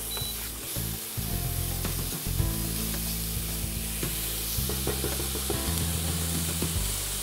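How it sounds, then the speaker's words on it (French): Chopped shallots sweat in a hot pan with a steady, soft sizzle, and a few light stirring scrapes and clicks come through the frying hiss. "on fait suer les échalotes, hachées"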